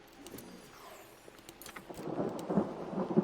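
Thunderstorm with rain in the video game Mind Over Magic, a soft rain patter swelling into a low, rumbling thunder roll that grows louder toward the end.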